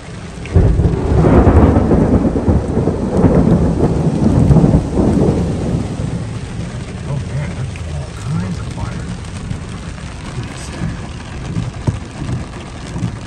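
A loud, deep roll of thunder during a rainstorm rumbles for several seconds, then fades into steady rain with faint scattered rumbles and occasional speech in the background.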